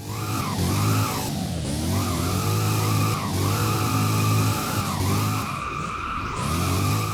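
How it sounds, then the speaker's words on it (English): A powerful V8 muscle car in the Roblox game Driving Empire drones steadily with rising and falling revs, tires squealing as it speeds along the road, loud and close throughout. "this is what it sounds like when you're driving on the road."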